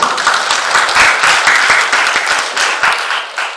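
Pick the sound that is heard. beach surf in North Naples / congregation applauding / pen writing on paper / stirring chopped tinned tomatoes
congregation applauding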